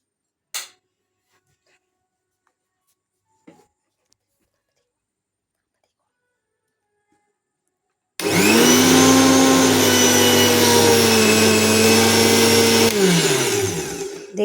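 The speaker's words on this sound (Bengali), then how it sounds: "দিয়ে এবার আমরা একটু এটাকে মিক্সিতে ঘুরিয়ে নেব।" Electric mixer grinder whirring loudly for about six seconds as it blends a sindoor paste with rose water, starting abruptly after a long near-silence with a few faint clicks, then winding down at the end.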